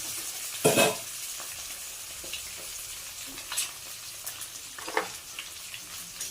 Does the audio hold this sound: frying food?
yes